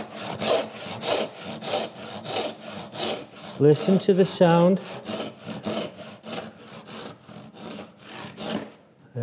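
A hand saw cuts wood while building a workbench, with a steady back-and-forth rasp of strokes at a brisk rhythm, close up, and a short stretch of talk partway through.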